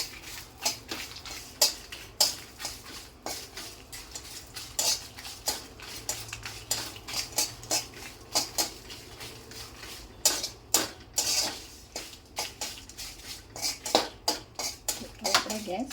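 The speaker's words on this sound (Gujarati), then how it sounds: "હવે તલ અને આને શેકી લઈશું અને 1 જ ચમચી તેલ નાખીશું." Sesame seeds roasting in a pan with a spoonful of oil, heard as repeated close metallic scrapes and clinks of a spoon against the pan in an irregular rhythm, with a faint background hiss.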